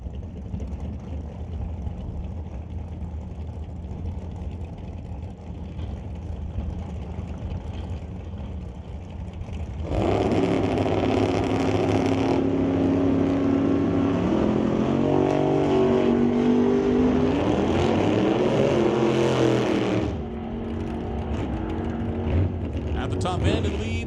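A drag race run pitting a Quality Racing Duster against a Camaro, a low background hum jumping to a loud, sustained engine roar for about ten seconds before dropping back, with an announcer talking throughout.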